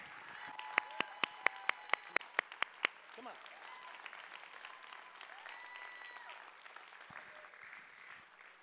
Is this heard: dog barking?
no